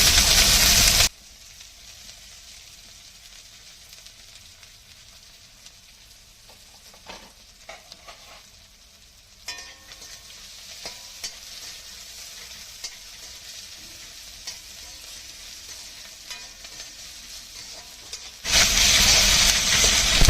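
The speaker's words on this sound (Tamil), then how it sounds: "நல்லா நம்ம பொன்னிறமா வதக்கிக்கலாங்க" Sliced big onions with a little curry leaf frying in a pan for Kadamba squid thokku, giving a loud continuous hiss and sizzle with scattered stirring scrapes near the middle, no one talking.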